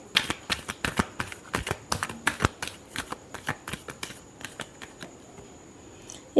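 Tarot cards shuffled by hand in a run of quick, crisp riffling bursts, close and clear with no talking, ending in a louder final slap of the deck.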